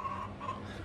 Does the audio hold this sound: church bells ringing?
no